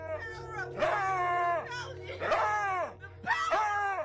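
A dog in a viral clip reacts to a crucifix with three loud, drawn-out bark-howls, each rising then falling, while a person shouts and talks over it.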